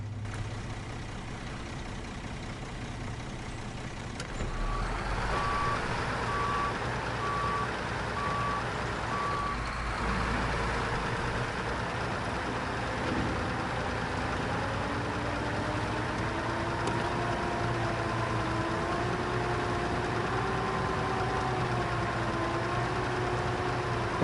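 Engine of a 10-wheel drive truck rumbling at idle while a reversing alarm beeps in a steady series for several seconds, then the engine keeps running as its pitch slowly rises and shifts; no voices.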